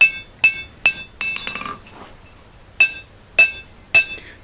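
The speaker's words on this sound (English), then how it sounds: "with overlapping hammer blows" Hammer blows forging an iron dagger blade, sharp ringing metallic strikes in an uneven rhythm, about seven close, loud impacts with bright clinking overtones and a short scraping rattle between them.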